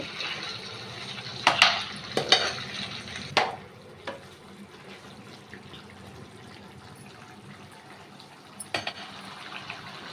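Spicy chicken fry is stirred in a pan over low heat: a few sharp scraping clatters of the spoon early and one near the end over a soft, steady sizzle, close and fairly quiet.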